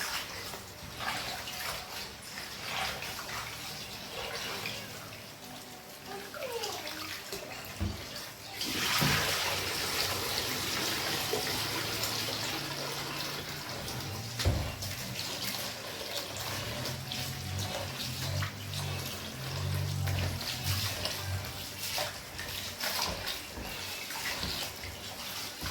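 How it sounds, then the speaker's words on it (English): Rice being washed under running water in a kitchen, a steady faucet stream with splashing and sloshing that surges louder partway through, alone with no talk. "I'm washing the rice until I see the water is not cloudy,"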